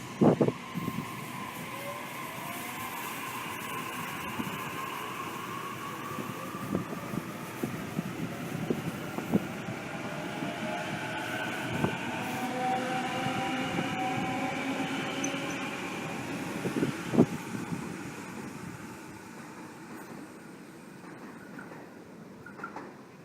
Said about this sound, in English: T1 is passing now.